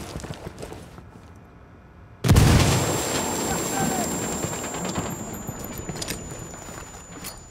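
A frag grenade explodes in Ghost Recon Wildlands, a sudden loud broadband blast that cuts through quieter ambience, followed by a long rumbling, crackling tail and a sustained high ringing tone.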